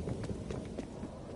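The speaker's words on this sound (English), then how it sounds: "you can hear their footsteps on this game" Footsteps of players running in Call of Duty Cold War multiplayer: a quiet, steady patter of soft thuds at an even jogging pace over a low background rumble.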